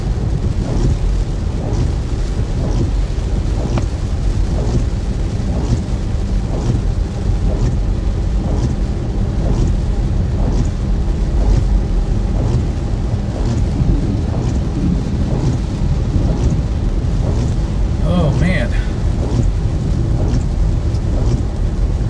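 A severe Florida thunderstorm rumbles on: steady heavy rain hisses throughout, broken by repeated low cracks and rolls of thunder, some close and loud, with no voices heard.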